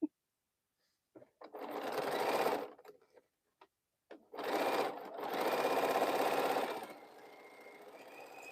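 A sewing machine stitches quilt pieces in two close, steady runs, a short one and then a longer one, separated by quiet pauses and a few brief clicks.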